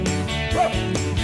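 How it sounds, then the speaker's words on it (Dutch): A cartoon dog's bark in a Dutch children's song, a few yappy barks over music. "Blaf de hond, hou nou je mond."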